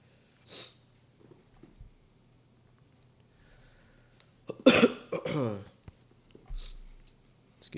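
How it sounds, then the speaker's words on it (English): A few coughs break a quiet room: one short cough early, then a louder, harsher coughing fit, followed by a smaller cough. "Still got a little bit of a cough."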